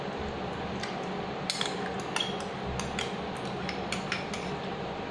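A spoon scrapes and clinks against a bowl while curd is scooped out for a dahi besan aloo curry, several light metallic taps and clinks over a soft steady background, no voices.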